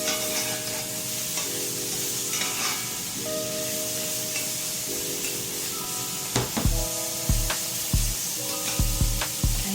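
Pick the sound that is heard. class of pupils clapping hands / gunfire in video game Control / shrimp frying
shrimp frying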